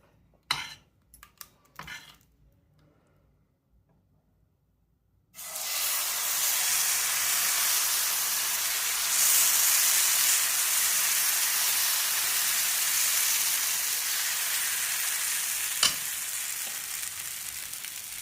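Oil hisses and sizzles loudly on a hot pan cooking jackfruit dosa, a dense steady frying sound that starts suddenly after a few quiet knocks and clatters and then holds strong to the end.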